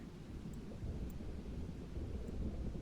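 Thunder from a storm in the chase game OUTBRK: a continuous low, heavy rumble holding steady at moderate loudness, with faint rain and wind noise and a few tiny ticks above it.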